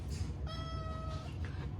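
A cat meows in one clear, sustained call lasting under a second, heard alone over a low background hum.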